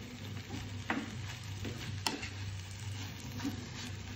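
Rice with vegetables and stuffing sautéing in a frying pan, a steady close sizzle and crackle with occasional sharp ticks and scrapes of stirring, no voices.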